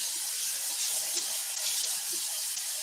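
Warm water runs steadily from a kitchen tap over frozen shrimp in a sink, a continuous close hiss and splash holding level throughout with no talking.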